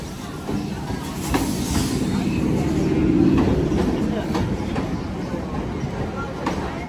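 A local train runs at Ballygunge railway station in Kolkata, giving a steady close rumble with a few faint clattering knocks, while people talk nearby.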